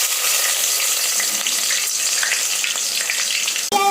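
Green chillies and mint hit hot oil in a pan, giving a loud, continuous crackling sizzle that holds steady throughout, then a brief scrape near the end.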